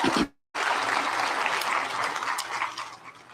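A crowd at a nurse pinning ceremony gives the graduates another round of applause: after a short silent gap, loud, continuous clapping rises at once and holds steady before easing slightly.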